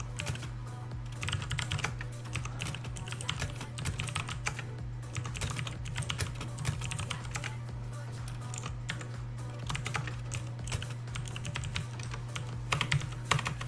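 Fingers tap steadily on a computer keyboard in quick, uneven bursts of soft clicks, close and quiet over a constant low electrical hum.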